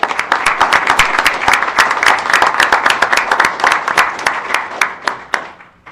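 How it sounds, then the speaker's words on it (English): A township board meeting audience breaks into sustained applause, many hands clapping densely and evenly for several seconds before thinning out toward the end. "a round of applause for Dave Bernhauser"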